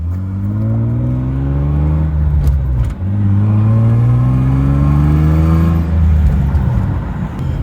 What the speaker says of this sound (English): I'm driving the 325i right now.